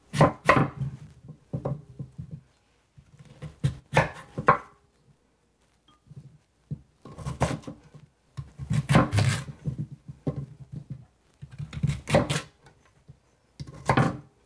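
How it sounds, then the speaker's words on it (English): A knife chops food into large cubes on a cutting board, in clustered bursts of sharp knocks separated by short pauses, close and fairly loud. "Okay, so I get everything into working size, and I'm just going to cube it, make pretty large bite-sized cubes."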